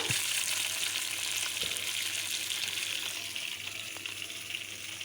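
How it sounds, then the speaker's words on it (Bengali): Fish frying in oil in a kadai, with a continuous dense hiss of bubbling oil close by, tapering slightly toward the end, without talk. "আবারও কিছু মাছ আমি ভেজে নিচ্ছি"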